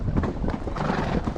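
A horse walking on a desert trail in autumn, steady hoof clip-clops close by in an even rhythm over light outdoor background noise, with no talking.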